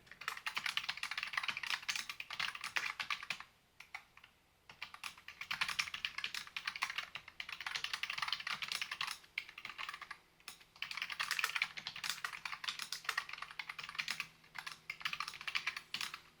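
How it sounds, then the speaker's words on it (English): Keys clatter rapidly on a wireless computer keyboard in bursts of typing, broken by a few short pauses. "I'm going to do a little type test"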